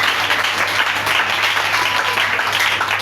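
A church congregation applauds loudly and steadily, a dense wash of many hands clapping filling the whole short stretch.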